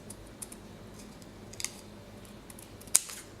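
Scissors snip quietly in a few short, scattered cuts through paper, with one sharper snip near the end, in a quiet room.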